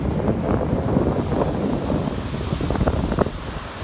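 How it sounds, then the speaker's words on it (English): Rolling ocean waves on a beach at a resort wedding location, a constant close surf roar mixed with wind rumble on the microphone, steady and moderately loud. "we got rolling waves"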